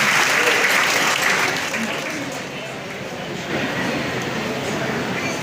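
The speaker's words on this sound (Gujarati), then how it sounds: "આપની તાળીઓ એના માટે પ્રેરણા છે." A dense, steady wash of audience applause fills a police community gathering in Kheda district honouring students at a ceremony, loud and continuous with a slight dip midway.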